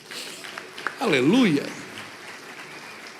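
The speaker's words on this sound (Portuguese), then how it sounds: "uma salva de palmas para os nossos irmãos da mídia" Church congregation applauding, a steady spread of clapping running under a voice that rises into a loud sung exclamation in the middle.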